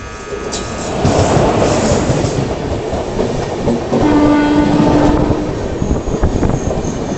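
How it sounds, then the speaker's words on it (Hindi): An Indian passenger train hauled by a WAP4 electric locomotive arrives at a station with loud rolling rumble and wheel clatter, and a sustained horn sounds partway through. "सामने से किसी ट्रेन का अराइवल हो रहा है WAP4 लोकोमोटिव के साथ"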